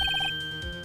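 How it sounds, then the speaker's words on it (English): A short electronic phone ringtone from Phoenix Wright: Ace Attorney, a few rapid beeping pulses, clear and fairly close, with no talk. "I heard a phone ring just now. One of those newfangled ringtones."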